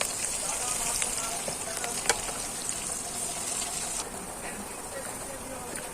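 Chopped onions sizzle in hot oil while being fried for chow mein, a steady bright hiss filling the pan with a few small pops, heard at close range.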